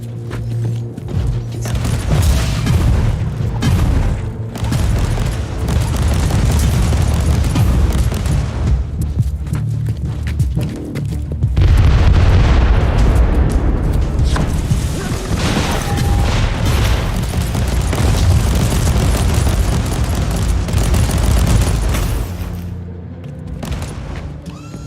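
A video game battle plays on an extreme difficulty co-op campaign, with repeated loud mortar booms, explosions and bursts of gunfire over about twenty-five seconds. The blasts come in dense clusters, with brief lulls between them.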